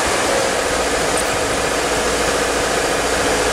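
A 2013 Subaru 2.5L engine idling roughly with a clogged catalytic converter: a steady, dense roar, loud and unbroken with a hissy, rough texture and no voices.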